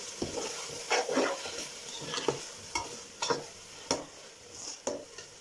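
Peas being stir-fried in a pan for matar pulao, a low sizzle under a series of scraping stirs and light utensil clinks at an uneven pace, fairly quiet and close.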